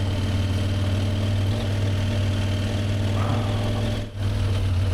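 A CFMOTO Ibex 800T motorcycle engine pulls steadily in second gear up a long rocky hill climb on a remote Arkansas trail, a continuous close drone with a brief dip near the end.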